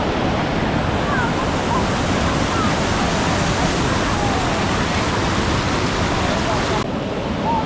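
Steady, dense rush of falling water from a hot waterfall in Tuscany, continuous and fairly loud, with no breaks and no audible talk.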